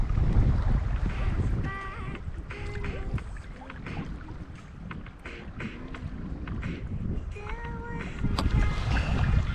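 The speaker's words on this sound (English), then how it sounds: "there is plenty of wind today" Wind buffets the microphone while kayaking on a lake in the Lutsi lake complex, a loud continuous rumbling gust noise with paddle and water sounds mixed in and faint tonal whistles.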